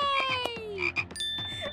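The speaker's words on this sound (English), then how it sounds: "Look at that funny blue frog." A cartoon blue frog croaks in a toy-doll animation, a short run of bright, warbling croaks over a sustained tonal music bed, close and clear with no talk.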